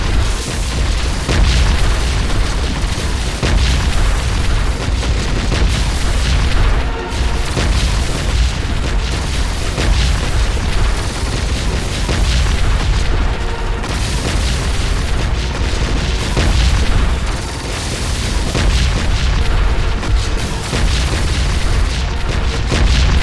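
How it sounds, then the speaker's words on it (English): Dense, continuous booming explosions from the Minos cannon in the strategy game Siege of Centauri roll on without a break, heavy and loud, layered over a constant rumbling battle din. "the Minos cannon is nice"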